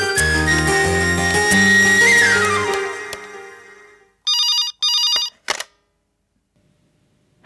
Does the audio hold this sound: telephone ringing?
yes